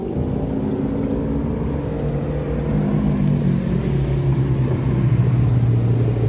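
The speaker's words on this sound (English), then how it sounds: "Here comes a Ferrari 488 Pista." A Ferrari 488 Pista supercar passes at a car show, its engine a steady rumbling drone that swells slightly louder toward the end with no talk over it.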